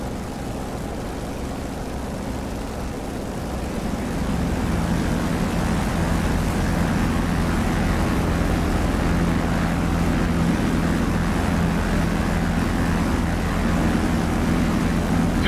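In the DCS flight simulator, a Corsair fighter's propeller engine drones steadily in the cockpit and grows slightly louder after the first few seconds. The deep, continuous roar holds evenly and no voice is heard.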